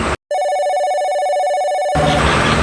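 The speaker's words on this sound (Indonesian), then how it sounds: "Telepon lagi nih dulu." A telephone rings loudly and close by with a continuous electronic trill that starts abruptly after a short silence. It then gives way to louder background noise.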